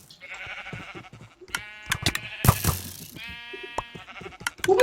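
Blocky sheep in Minecraft bleat in a run of short harmonic calls, several overlapping, with game clicks, a burst of noise midway and faint background effects.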